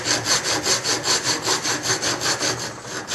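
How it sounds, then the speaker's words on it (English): A coarse file cuts aluminum in quick, even back-and-forth strokes, about four per second, with a close, gritty rasp throughout. "it's a real coarse file, so when I cut with this, it's going to take quite a bit of material off, right away"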